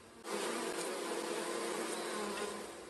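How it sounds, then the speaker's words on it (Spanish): A swarm of locusts buzzes in a dense, steady drone that starts abruptly and holds at an even level throughout, close and loud with no voices. "Es un enjambre de langostas o saltamontes, como también se les llama."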